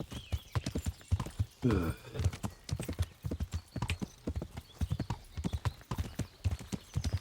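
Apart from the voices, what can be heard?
horse hooves clip-clopping, from the video game Kingdom Come Deliverance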